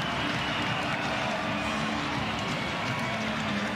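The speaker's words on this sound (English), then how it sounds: "What a crowd, what an atmosphere" A basketball arena crowd roars in a dense, continuous wall of cheering and applause after Utah Valley's NIT quarterfinal win over Cincinnati, loud and unbroken throughout.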